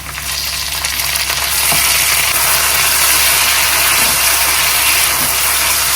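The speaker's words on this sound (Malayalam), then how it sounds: "ഈ ഉള്ളിയും പുതിയനയിലയെല്ലാം നല്ലപോലെ ഫ്രൈ ആയി കഴിഞ്ഞു" Onions and mint leaves fry in a pan for a mushroom biryani, giving a loud, steady sizzle that swells after the first second and holds as a dense, continuous hiss, with no voices.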